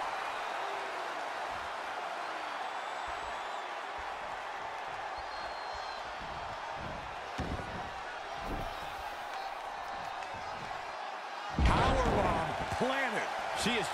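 Wrestling moves in the WWE 2K20 video game land with heavy slam thuds amid crowd noise, while a commentator talks over them, and a louder burst of impacts and cheering arrives near the end.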